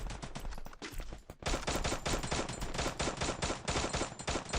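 Rapid bursts of automatic gunfire from a Free Fire battle royale match, dense repeated shots that pause briefly and then resume in a sustained loud barrage, with no talk.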